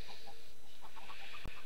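Minecraft chickens on a farm give soft, scattered clucks at a moderate distance, several short calls spread across the moment, with a brief sharp click near the end and no talking.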